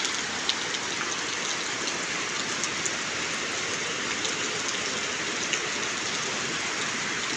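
Steady rain falls in the countryside in a dense, even hiss of drops with occasional slightly louder patters. It continues unbroken, with no voices.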